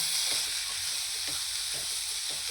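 Vegetables and soaked peanuts are stirred in a hot oiled pan for a Sankranti bhogichi bhaji, giving a steady bright sizzle with soft scraping strokes of the stirring spoon at a regular pace, close and without speech.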